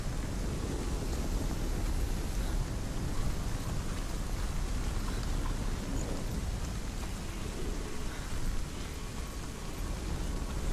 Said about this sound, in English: That rain started at a very appropriate time.